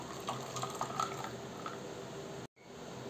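Water pours steadily into a blender jar while making sugarcane juice, a soft continuous splashing close by that briefly cuts out near the end.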